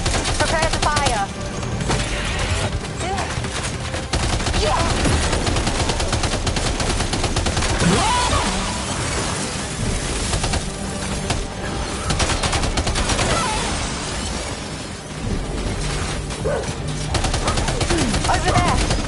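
Near-continuous rapid gunfire in Death Stranding 2, dense bursts of shots that barely pause for almost twenty seconds, loud and busy, with game voices and other noise mixed in.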